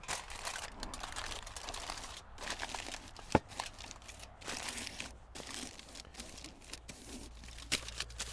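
Quiet, continuous crinkling and rustling as a sheet of aluminium foil is crumpled and pressed around a can, with a few sharper crackles along the way.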